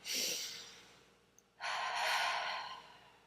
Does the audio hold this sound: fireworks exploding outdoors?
no